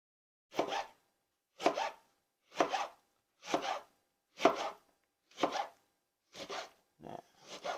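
Knife slicing produce on a cutting board while preparing an immune boost juice, eight crisp separate chops spaced about a second apart, close and clear, the last few quicker and softer, with no talk.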